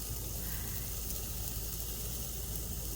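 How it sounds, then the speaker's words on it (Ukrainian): Meat sizzles on a backyard grill, a constant, even hiss with a soft low rumble underneath that holds steady throughout. "Так, м'ясо викладене на гриль"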